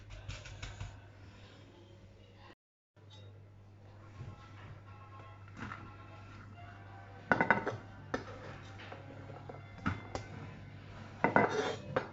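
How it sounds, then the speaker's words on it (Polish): Chopped vegetables tipped from a container onto uncooked pasta in a dish, heard as sparse clinks and a few louder clattering bursts over a steady low kitchen hum, close by. "najpierw wsypiemy sobie te wszystkie warzywka tutaj"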